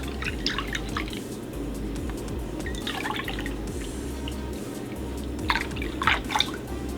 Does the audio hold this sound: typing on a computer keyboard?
no